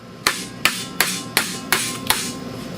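A hammer taps six times at an even, unhurried pace on a rusty lower ball joint of a Chrysler Sebring, each strike a sharp, close metallic knock that rings briefly, with no talking.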